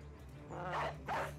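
Two short, close dog barks from a war dog in the medieval tactics game Battle Brothers, sounding over a steady low game ambience.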